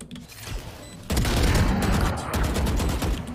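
Rapid automatic gunfire from the video game Valorant, a dense burst of shots that begins abruptly after a quiet moment and continues as loud rattling fire.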